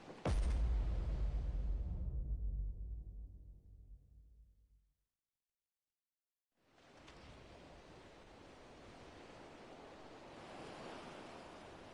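Rough sea currents and waves around a reef in Final Fantasy XVI: a loud roaring surge fades into a few seconds of silence, then steady wash and hiss of water returns.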